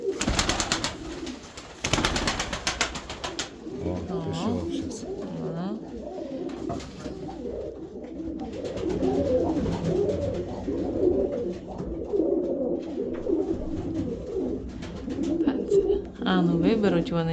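Pigeons coo repeatedly in a loft or coop, a layered chorus of soft, throaty rolling calls running throughout, with occasional flutters and someone speaking over them at times.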